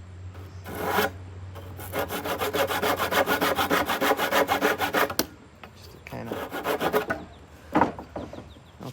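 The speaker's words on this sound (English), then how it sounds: "I just used this little saw I have" A small hand saw cuts through wood for a loveseat gazebo in quick, close, rhythmic back-and-forth strokes, two bursts of sawing with brief pauses, no talking over it.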